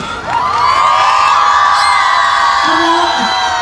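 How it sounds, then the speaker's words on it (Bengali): A large crowd at the Barjora festival and book fair 2025 opening cheers and whoops loudly for actress Koushani Mukherjee, a continuous roar of voices with a few higher shouts standing out, likely with applause mixed in. "আপনাদের সকলের প্রিয় কৌশালীর জন্য জোরে হাততালি।"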